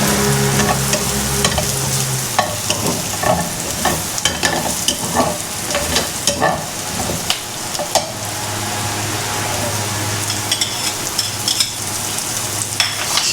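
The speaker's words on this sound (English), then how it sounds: "She sautés the onions and garlic." Onions and garlic sauté in butter in a pan, a loud, steady sizzle with frequent scraping and tapping as a utensil stirs them, and a low hum running underneath.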